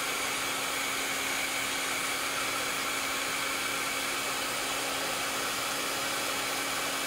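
A hair dryer blows steadily and loudly throughout, a constant close-up whoosh drying a handmade craft project, with no talking.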